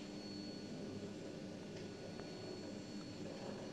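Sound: lighthouse motor running

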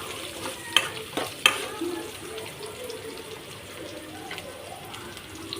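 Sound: curry leaves being stir-fried in a pan

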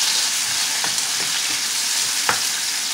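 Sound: tomato frying in a pan

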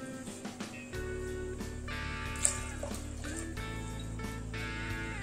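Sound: water being poured into a cooking pot

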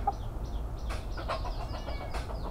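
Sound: chickens clucking

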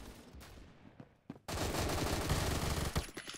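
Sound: Vector .357 SIG gunfire in Roblox video game

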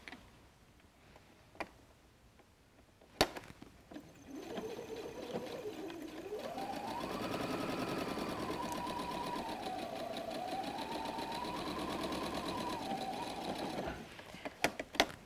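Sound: sewing machine stitching a bag seam

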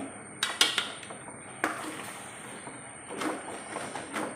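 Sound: stirring cooked dried tapioca and beans in a pot

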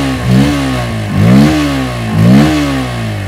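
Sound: Bajaj Pulsar P150 150cc motorcycle exhaust note revving

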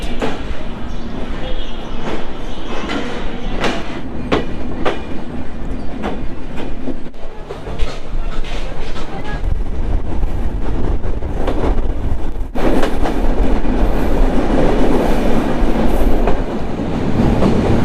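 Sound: Rupashi Bangla Express train running past Jhikargachha station

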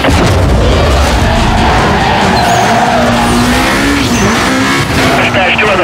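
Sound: Lotus Elise car driving in a racing video game

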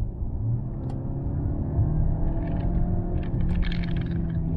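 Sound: French hybrid limousine accelerating hard in sport mode

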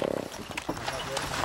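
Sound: horse hooves pulling a one-horse open sleigh

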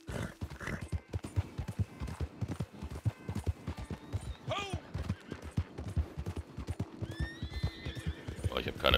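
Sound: horse being ridden, hooves and whinny, video game Red Dead Redemption 2

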